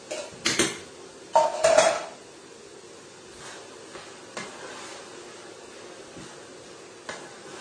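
Clattering utensil scrapes against a saucepan of coconut milk for a winter vegetable curry in a few short bursts near the start, then quieter occasional clinks over a low kitchen hum.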